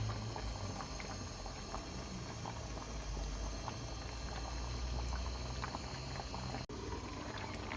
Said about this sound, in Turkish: 5 dakikadır kaynıyor arkadaşlar.